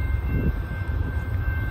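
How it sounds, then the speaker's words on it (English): A train approaching down a hill toward a railroad crossing with the gates lowered, a steel coil freight train, gives a steady low rumble that holds at moderate level throughout, with no voices over it. "All right, we got a train coming down the hill."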